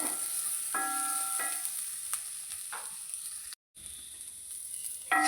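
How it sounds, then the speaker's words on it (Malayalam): Onions sauté in oil in a pan, giving a faint, even sizzling hiss that briefly cuts out, with a few tonal blips over it. "ഉള്ളി നന്നായി വഴണ്ടു വന്നു."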